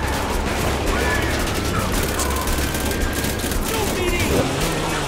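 Rapid bursts of gunfire from cars in the GTA video game, a busy dense crackle mixed with engine and mechanical noise, held at a steady loud level.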